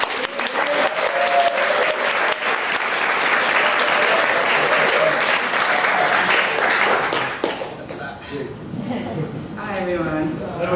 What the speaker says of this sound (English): keep your applause going as you welcome our next storyteller